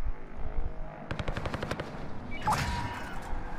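Gunshots in the shooter Warzone: a quick burst of several sharp shots, fairly close, over a low steady game background, then a brief bright clatter.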